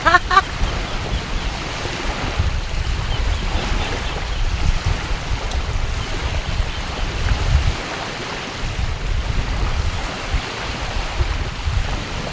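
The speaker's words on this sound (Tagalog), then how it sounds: "Maingay yung alon" Continuous roar of waves washing ashore, a broad steady rush with low rumbling surges, close by and unbroken, with some wind noise.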